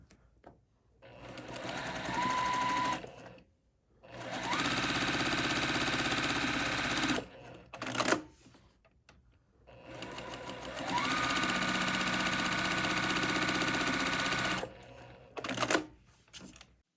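A sewing machine stitching quilt fabric with a 1/4 inch seam, in long steady whirring runs broken by short pauses and clicks, close and loud.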